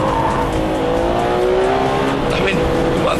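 A Ferrari 599 GTB is driven hard on a track, its engine roaring loud and steady with rising and falling pitch as it accelerates, and a voice talks over it.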